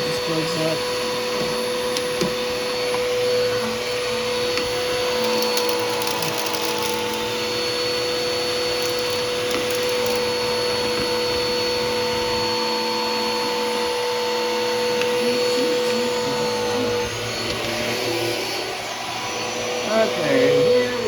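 A Sanitaire SC679J upright vacuum cleaner runs steadily upstairs, a loud continuous motor whine with faint voices underneath.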